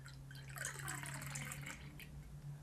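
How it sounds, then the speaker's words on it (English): Hanssens Schaarbeekse Kriekenlambiek, a limited-edition oak-aged cherry lambic, poured slowly and carefully from a small bottle, giving a steady close trickle and gurgle of liquid with no voices. "I'm still gonna pour this"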